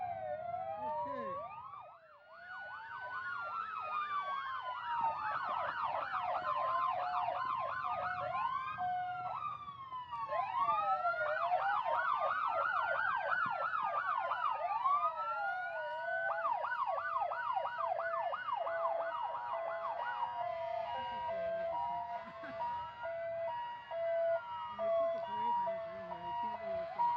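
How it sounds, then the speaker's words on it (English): Emergency vehicle sirens passing along a 4th of July parade route in Burlington, loud wailing and yelping tones that sweep up and down continuously, several sirens overlapping near the listener. "until the sirens go by"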